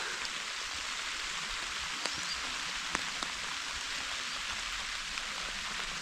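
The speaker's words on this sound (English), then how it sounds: "This rain was supposed to stop." Steady rain falls in the Maine woods during a whitetail deer hunt, a soft, even hiss with a few sharper drips landing nearby, with no voices.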